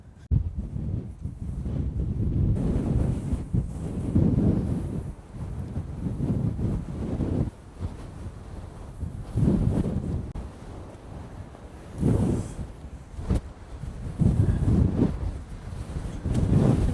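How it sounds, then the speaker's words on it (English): Strong wind buffets the microphone on an exposed stretch of the Catlins coast in New Zealand's Southern Scenic region, roaring loud and close in uneven gusts that swell and ease throughout, with no voices. "It's very windy here."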